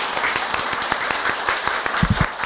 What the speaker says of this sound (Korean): 박수로 오늘 행사를 일단 마치겠습니다